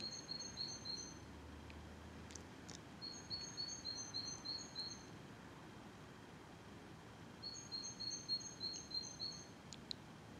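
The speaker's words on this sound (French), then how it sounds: "On n'entend que les petits chants d'oiseaux qui montent." Small birds sing in short, high chirping phrases in three bursts over a steady faint hiss, distant and quiet inside an old house.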